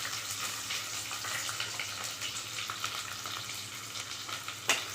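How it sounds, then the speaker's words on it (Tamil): Sliced onions and green chillies fry in a pan with a continuous close sizzle and crackle, a faint low hum underneath and a single sharp clink near the end. "இப்போ நல்லா ஃப்ரை பண்ணிக்கலாங்க."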